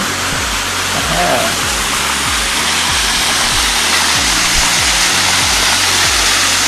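Steady broadband roar of a waterfall in a shaded spot in the Pyrenees, loud and continuous throughout, with a low rhythmic thumping underneath and a brief murmured voice.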